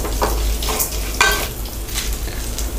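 Spices and curry leaves sizzling and frying in hot oil for moong dal sambar, a steady close crackle with light stirring scrapes, no voices.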